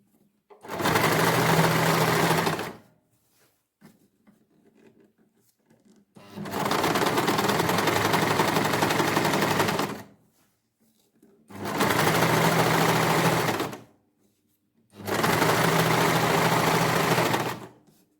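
Sewing machine stitching lace onto the neckline of a plain shirt, running in four bursts of steady whirring stitching lasting two to four seconds each, separated by quiet pauses with only faint handling sounds.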